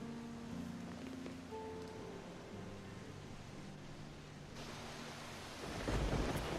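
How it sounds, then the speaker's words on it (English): In the Risen video game, a thunderstorm rumbles low and distant under soft rain and ambient tones, and a louder thunder roll surges near the end. No one speaks. "I wouldn't even mind the storms if there was just slightly less thunder"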